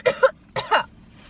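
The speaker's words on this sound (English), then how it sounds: "A cough." Two short, raspy cough-like bursts, each a quick double hack, close by with a brief pause between them.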